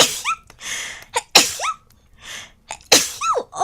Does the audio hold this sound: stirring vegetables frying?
no